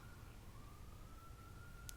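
A siren wails faintly outside in the distance, a thin sustained tone slowly gliding upward behind a low background hum, with no voices.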